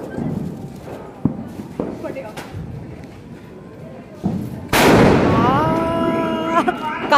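Diwali firecrackers burst in a string of sharp pops and thumps, followed by a loud close blast that fades into a long noisy tail, with excited voices talking throughout.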